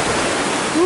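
Sea waves surging up the shore during a tidal flood at Cemara Getem, Puger, make a loud, steady broadband rush of water that swells slightly toward the end of the brief moment.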